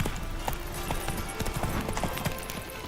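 Hooves clop in a quick, rhythmic gallop as the horse Roach runs in The Witcher 3: Wild Hunt, a steady drumming under a constant game background bed.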